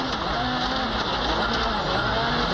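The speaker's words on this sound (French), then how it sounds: "ça se termine mal hein, pour Ott Tänak, avec une sortie de piste très spectaculaire." Engine roar and tire noise from a rally car skidding off the track at Rally New Zealand, steady and loud with a constant engine drone throughout.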